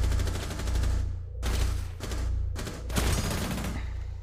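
Bursts of gunfire in Rainbow Six Siege: four or five dense, loud volleys of rapid shots broken by short gaps, over a steady low rumble, with no talking.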